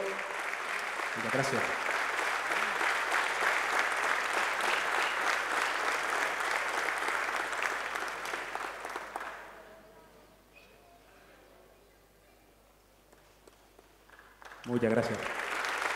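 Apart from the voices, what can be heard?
audience applause at police award ceremony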